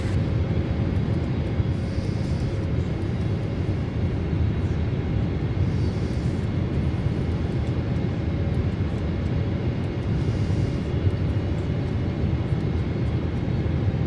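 Steady, loud cabin-style engine drone of an airliner on approach with landing gear down in Microsoft Flight Simulator 2024, an even broadband roar holding throughout with faint higher whooshes now and then, no voices.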